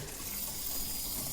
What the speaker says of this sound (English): then we'll fill it up with water